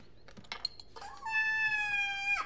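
A kitten meows several times in quick succession, with one longer drawn-out, tonal meow, close and clear with no talking.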